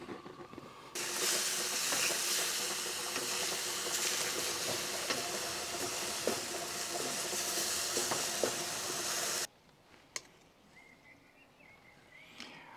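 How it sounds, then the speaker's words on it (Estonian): Meat sizzles loudly in a frying pan, cooked for an Afghan goulash soup, a steady close hiss with small crackles for about eight seconds before stopping, leaving quiet kitchen sounds. "Nii, ja teise panni praeme liha veel."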